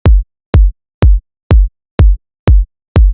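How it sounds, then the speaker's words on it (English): A raw, unprocessed kick drum thumps seven times at an even, steady pace, each hit deep and boomy with a short decay, played alone. "just the raw kick drum will sound like this."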